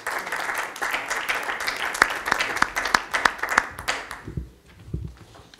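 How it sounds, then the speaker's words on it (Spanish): An audience at a conference on Spanish aphorism applauds steadily with a few sharp individual claps standing out, then the clapping fades away. "Pues, por favor, Roger, le damos un aplauso."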